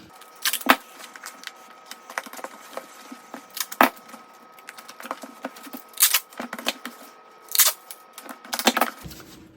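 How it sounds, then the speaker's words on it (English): Packing tape is pulled and pressed onto an eBay shipping package. It makes crackling, sticky tearing sounds in irregular short bursts with quiet gaps, close and clear with no talking. "I'm gonna finish taping."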